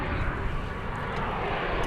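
An airliner at DFW Airport, flight 1599, takes off, giving a steady broadband engine roar close by that holds even throughout, with no talk over it.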